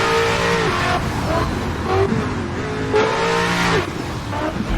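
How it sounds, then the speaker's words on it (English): A loud racing car engine in the video game Assetto Corsa roars continuously, revving up and down through gear changes, close and steady throughout. "this car's probably really loud as well"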